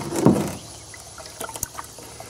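Water splashes and sloshes as a beehive sugar-water feeder is rinsed, a loud splash at the start followed by softer trickles and drips.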